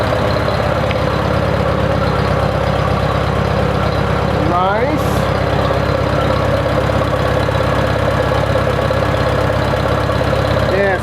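A Farmall Super A tractor with an oil-soaked engine idles on a cold start, a loud, steady, even chugging that holds throughout, with a voice briefly speaking over it.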